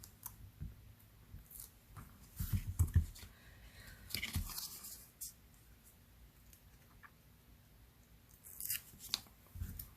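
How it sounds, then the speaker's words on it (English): Paper backings peeled off tear-and-tape adhesive strips during card making, with scattered soft crinkles and tearing rustles in short bursts, quiet and close. "And I'm just going to take the paper backings off."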